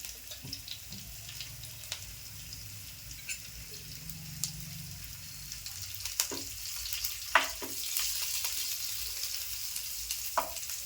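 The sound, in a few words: chopped chillies frying in oil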